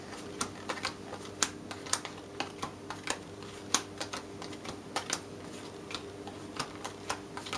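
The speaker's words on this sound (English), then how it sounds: "you deal 10 cards to each player" Ten playing cards dealt to each of two players for a round of Legends & Lies, one card at a time. About twenty crisp, light snaps land in a steady, even rhythm, close and quiet, with no talking.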